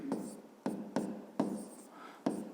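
Pen or pencil writing on paper during a fifth-grade maths exercise, a series of short scratchy strokes in a quiet room, each starting sharply and trailing off, close and fairly soft.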